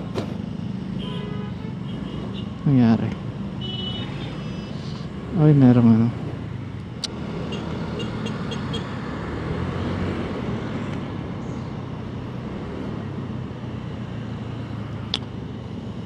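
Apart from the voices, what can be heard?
road traffic noise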